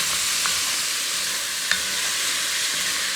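Beef seared in a stew pot while a utensil scrapes the browned bits off the bottom, a dense continuous sizzle with a couple of brief scraping knocks, close and fairly loud.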